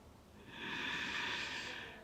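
A single slow, deep inhale through the nose during a yoga breathing exercise, soft and close, swelling for about a second and a half before easing off.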